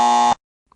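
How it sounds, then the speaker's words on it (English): A quiz game buzzer gives one loud, steady electronic tone lasting about a third of a second, then cuts off abruptly and leaves near silence apart from a tiny blip. "You've both got buzzers. Let's hear them."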